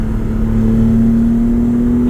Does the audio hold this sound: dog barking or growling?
no